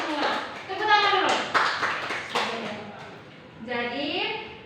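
Students applaud in a classroom during a microteaching chemistry lesson, with a short burst of clapping mixed in with overlapping talk.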